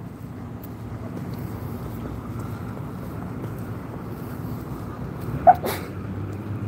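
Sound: sneeze

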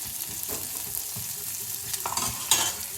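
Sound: onions frying and being stirred in pan

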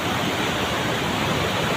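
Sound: waterfall

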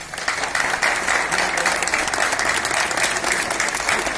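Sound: audience applause at a May Day rally

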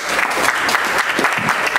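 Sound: applause

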